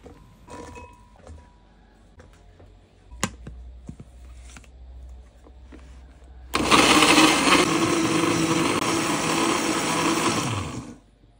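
After some quiet clattering and handling noises, a blender grinding spices starts with a loud whirring roar, runs steadily for about four seconds, then stops.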